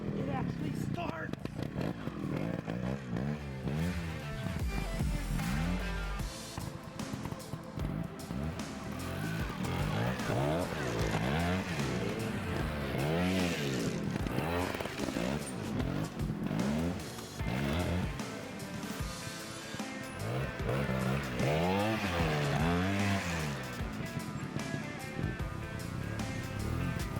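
A Scorpa trials bike engine starts and runs, revving up and down in repeated rising and falling sweeps, loud and close throughout, with people talking over it.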